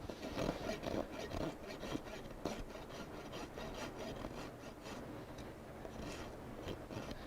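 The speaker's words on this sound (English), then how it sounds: "I'm just going to rasp on that." A rasp files down a miniature horse's hoof during trimming, producing repeated rough scraping strokes in a steady rhythm, close and clear with no talk.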